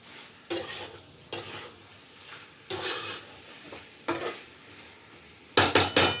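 Food being sautéed in a pan, loud bursts of sizzling and clattering utensil scrapes coming every second or so, ending in a quick run of clinks, with no speech.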